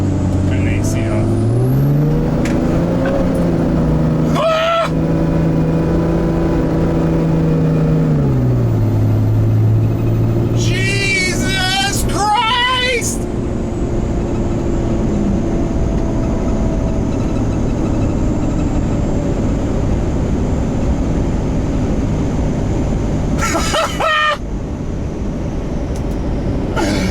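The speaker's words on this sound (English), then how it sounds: "We're gonna do a full throttle pull." A Cummins-swapped 6.4 Ford F-series truck engine hums under heavy load in a steady full-throttle pull, its drone rising in pitch and then settling, with people talking inside the cab.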